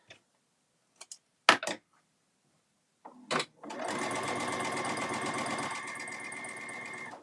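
A sewing machine stitches bag straps close by, starting after a few scattered clicks and handling sounds, then running as a steady, even whir until the end.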